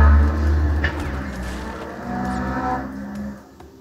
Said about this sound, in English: there are some very fast and loud cars driving outside